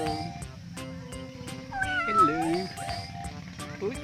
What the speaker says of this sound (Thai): แมวมาได้ยังไงอ่ะ